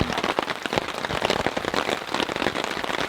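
Heavy rain pelts a campsite during a violent storm, a dense, continuous patter of drops striking surfaces close by with no talk.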